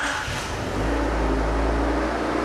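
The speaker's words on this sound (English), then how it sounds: "let's start her up" A Rover 400 Tourer engine turns over and catches, settling into a steady, loud low rumble that runs continuously close by.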